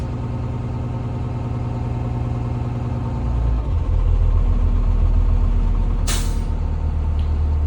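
A school bus engine idles steadily at a pre-trip inspection while air pressure builds, a deep continuous rumble that shifts pitch midway, with a brief sharp hiss of air near the end.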